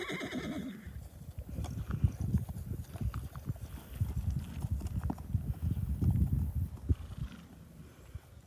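An off-the-track Thoroughbred mare moves around, giving a steady run of dull thudding hoofbeats close by, with some snorting, under a faint voice.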